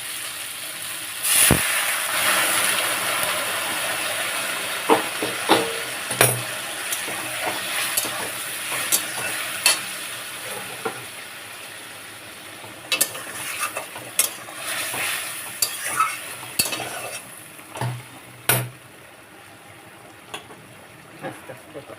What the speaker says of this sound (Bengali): ভেন্ডি সিদ্ধ হয়ে গেছে, এবারে এর মতো অল্প করে জল দেবো।